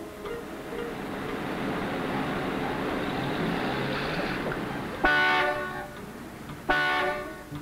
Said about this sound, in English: Will you stop honking, Mac?